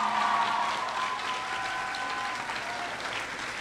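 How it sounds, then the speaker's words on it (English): An audience at a 2019 Buffalo Arts Academy graduation ceremony applauds the valedictorian, steady mid-level clapping from a large crowd that holds evenly and begins to thin near the end. "Let's give her another round of applause for those words."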